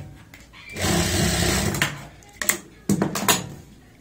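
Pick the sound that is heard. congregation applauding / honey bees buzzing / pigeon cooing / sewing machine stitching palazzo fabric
sewing machine stitching palazzo fabric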